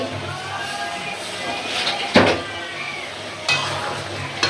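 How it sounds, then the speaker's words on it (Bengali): Koi fish (climbing perch) fry in a pan with a steady sizzle, broken by a few sharp clinks of a utensil against the pan, while a voice talks over the cooking. "সাথে কই মাছ ভাজি ফ্রাই করছি"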